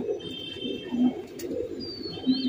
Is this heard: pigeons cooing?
yes